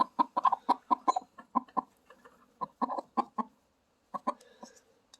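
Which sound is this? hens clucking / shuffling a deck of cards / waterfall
hens clucking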